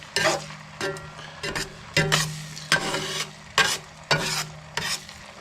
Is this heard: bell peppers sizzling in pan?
yes